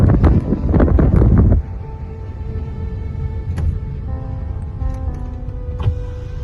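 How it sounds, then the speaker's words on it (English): Strong wind buffeting on the Tay Bridge, heavy gusty roar and microphone rumble for the first second and a half, then dropping to a lower steady drone with a faint hum inside a vehicle. "it's very, very windy up here."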